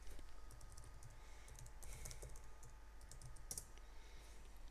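Quiet, steady clatter of keys on a computer keyboard as text is typed on a Bodhi Linux desktop, close and continuous with brief pauses, no voices.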